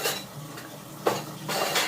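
Dishes and utensils clink and rattle in a home kitchen during washing, with soft metallic clatters and a sharper knock against a steady watery background.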